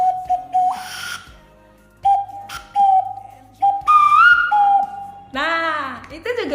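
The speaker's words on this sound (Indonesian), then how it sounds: "suara bersiul" Several short whistled notes, some held and some sliding upward, loud and close, separated by brief pauses.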